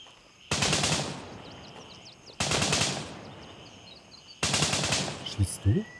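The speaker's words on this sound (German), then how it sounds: "Ich hör die Schüsse da vorne." Bursts of automatic gunfire in the tactical shooter Gray Zone Warfare, three long loud volleys spaced a couple of seconds apart, with faint bird chirps and a few single shots between them.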